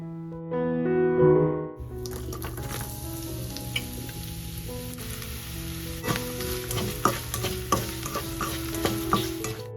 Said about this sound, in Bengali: এবার প্যানটা গরম হলে তাতে সর্ষে আর লঙ্কা ফোড়ন দিয়ে দেবো